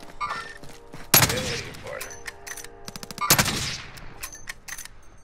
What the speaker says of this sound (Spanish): Mira, ¿ven balazos? ¿Ven esos balazos?